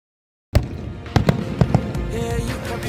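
Fireworks at a Bahrain National Day display burst after a half-second silence, with several sharp booms and crackles over a steady rumbling background.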